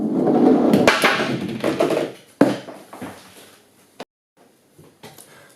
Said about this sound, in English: I will let both of these wheels roll down this ramp together